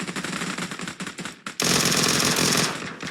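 PUBG Mobile gunfire: close, loud bursts of rapid automatic shots, a brief pause, then one long dense burst, with no voices.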